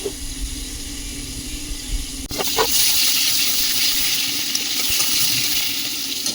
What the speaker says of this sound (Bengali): এভাবে ঢাকা দিয়ে দিয়ে আমাকে ভেজে নিতে হবে